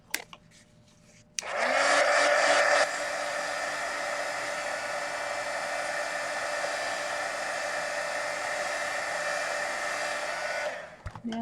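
A hair dryer blows steadily on wet paint on a mixed media artwork, switching on abruptly with a louder burst at first, then settling into an even, close whoosh for about nine seconds before cutting off.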